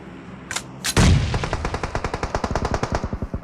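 Automatic gunfire in PUBG Mobile, a couple of single shots followed by a loud, close burst of rapid rhythmic shots fading slightly toward the end.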